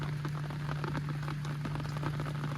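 Rain falls steadily and densely on a surface close by, with a constant low hum running underneath.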